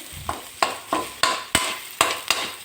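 Ingredients for a sardine curry with kudampuli are sautéed in a pan, with rhythmic stirring scrapes about every half second over a steady frying sizzle, close and fairly loud with no talk.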